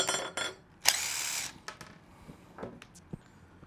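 A 7mm nut driver works loose the rear axle nut on a Losi Promoto-MX motorcycle with an aluminum swing arm. It gives a few short metallic scrapes and ratchety clicks, one brief louder burst, then sparse small clicks and taps.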